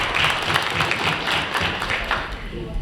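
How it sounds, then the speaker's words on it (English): A large audience at an American Telugu Association business seminar in Edison, New Jersey applauds in a steady, dense wash of clapping for about three seconds, with a voice mixed in. "Give yourself a big hand"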